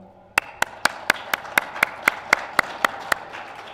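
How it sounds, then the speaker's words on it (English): A single person clapping at a press conference, about a dozen sharp, evenly spaced claps at a steady rhythm, close and distinct against a quiet room. "I want to give a massive applause for them for helping out this platform"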